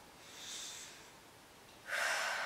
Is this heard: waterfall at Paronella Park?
no